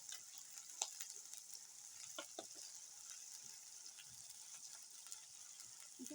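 Onion frying with spice paste in a pan for a duck meat curry, giving a soft, steady sizzle with occasional stirring scrapes and clicks, fairly quiet and close.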